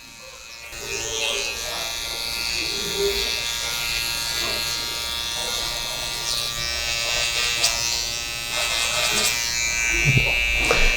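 Electric hair clippers buzzing steadily while cutting a taper during a long-to-short haircut, a close continuous hum with slight shifts as the blades move through hair, and faint talk in the background.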